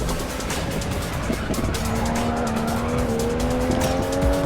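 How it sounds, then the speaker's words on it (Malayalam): A car drifts in a racing video game, its engine droning steadily while tires squeal in a long rising whine, loud and continuous with no talking. "നമ്മളിപ്പോൾ തന്നെ ഡ്രിഫ്റ്റ്"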